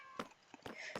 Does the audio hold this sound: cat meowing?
yes